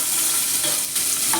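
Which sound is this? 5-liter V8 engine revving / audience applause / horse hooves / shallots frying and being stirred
shallots frying and being stirred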